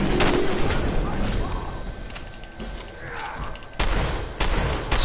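Gunfire in the video game Fallout 4 cracks out in loud, rapid bursts: a dense volley at the start, a quieter stretch, then further sharp shots near the end.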